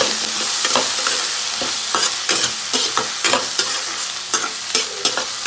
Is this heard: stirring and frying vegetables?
yes